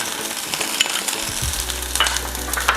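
Chopped shallots sizzle in hot coconut oil as they are stirred, a loud crackling fry with scraping of a spoon and a low hum beneath.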